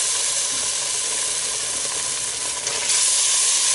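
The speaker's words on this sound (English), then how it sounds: "Our beef broth is boiling." Beef broth boiling in a pot on the stove, a steady close bubbling hiss that holds constant throughout with no voices.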